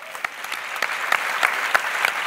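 An audience at a political rally applauds steadily, a dense wash of many hands clapping at moderate distance with no talk over it.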